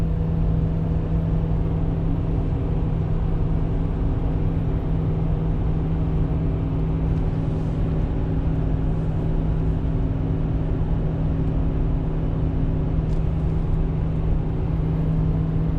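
Inside the cab of a Chevrolet truck with a 6.0 gas engine and five-speed, hauling hay uphill at about 56 mph, a steady low engine drone with road noise runs on unbroken, with no talk.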